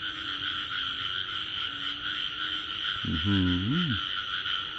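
Frogs croak at night in rural Thailand, a single rising-and-falling croak standing out near the end over a constant shrill chorus of night insects, with no talking.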